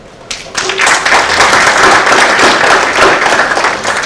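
An audience bursts into applause after a presentation at an international dialogue event, a dense, sustained round of clapping that starts abruptly and carries on steadily.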